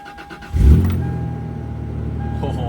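An old truck engine fitted with a Cherry Bomb muffler roars to life and settles into a steady, deep, close rumble, with a faint whine running through it.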